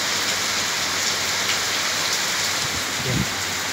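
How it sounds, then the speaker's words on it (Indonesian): Steady rain falling in Bali, a dense continuous hiss of drops on surfaces, loud and near, with a faint low thump toward the end and no voices. "Itu hujan."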